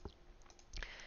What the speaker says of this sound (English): Now I click on the most recent one just to get my name.